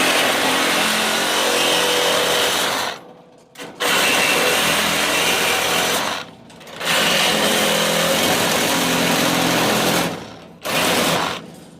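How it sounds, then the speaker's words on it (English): Reciprocating saw cutting through a metal pallet crate, a loud harsh buzzing rasp in three long bursts separated by brief pauses, close up with no talk. "I think the best way is to use a sawzall."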